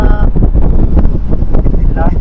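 Wind blows outdoors in a Malenadu village among areca groves, a loud, steady low rumble buffeting the microphone throughout, with faint voices showing through at the start and near the end.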